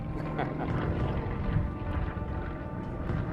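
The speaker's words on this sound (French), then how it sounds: "qui a un vieux moteur, qui a un moteur en étoile." A Yak 50 aerobatic aircraft with an old radial engine drones in flight, a steady, throbbing low rumble that holds for the whole stretch, with voices faintly mixed in.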